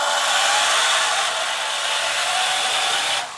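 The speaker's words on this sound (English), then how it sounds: "The steel gearboxes used to be a lot louder" A small steel gearbox runs steadily and alone, giving a continuous high whirring whine at an even level for the whole stretch before easing slightly at the end.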